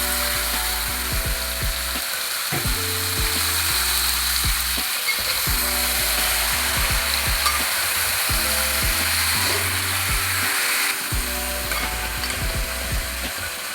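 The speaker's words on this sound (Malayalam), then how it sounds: "അടുത്തതായിട്ട് ചിക്കൻ ചേർത്ത് കൊടുക്കാം." Marinated chicken pieces sizzling and frying in a pan for Kerala-style chicken perattu, a steady loud crackle with repeated scraping stirs throughout and no voices.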